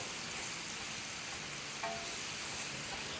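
Chicken with garlic and ginger paste frying in a pot on high heat, a soft continuous sizzle and crackle, faint and close with no talk.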